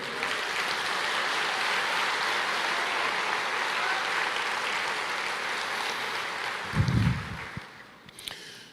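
A church congregation applauds in a broad, sustained wash of clapping that holds steady for several seconds before tapering off, with a brief low thump near the end.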